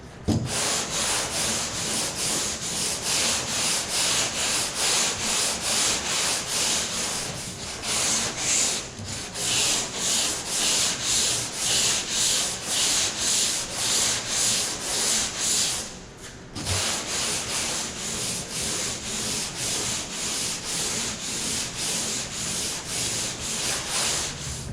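Steady, loud sanding of Bondo body filler on a car door under repair, a continuous rasping scrub with rhythmic strokes and two brief pauses, no talking.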